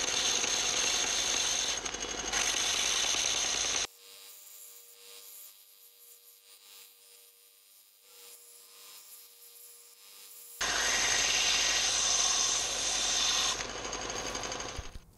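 Loud abrasive grinding from a 3D printed part spun in a drill against a belt sander, broken by a quieter pause with a steady motor hum before the grinding resumes.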